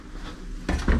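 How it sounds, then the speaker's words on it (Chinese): A plate is taken out and set down in a home kitchen while making a tuna fried-egg breakfast, heard as a short pair of close ceramic clatters near the end after quieter room tone. "我再拿一个盘子。"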